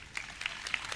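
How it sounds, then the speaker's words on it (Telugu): A church congregation clapping, a handful of scattered, fairly quick handclaps at moderate distance, with faint voices in the background. "చప్పట్లు కొట్టుకే"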